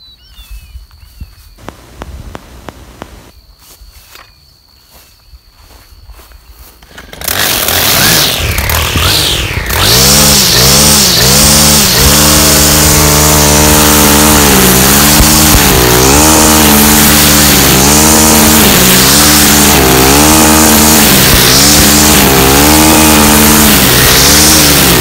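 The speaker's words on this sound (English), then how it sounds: "Now let's take a look at the 131 Kombi motor." A STIHL 131 Kombi string trimmer motor starts up after quiet handling sounds and then runs loud and close for a long stretch, its pitch rising and falling as it is revved.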